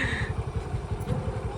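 Low, steady puttering of a scooter engine running nearby at night during a village festival, an even pulsing drone with no talk over it.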